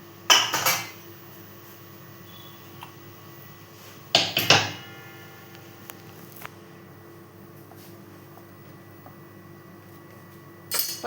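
A spatula scrapes and clatters against a hot tava while food is flipped, in three sharp metallic bursts separated by quiet stretches with a faint steady hum and a few small clicks.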